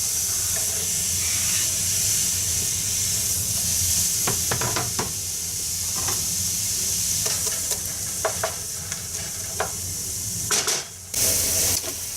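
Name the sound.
onions sautéing in olive oil in a hot pan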